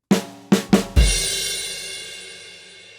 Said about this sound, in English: This is a quarter measure fill.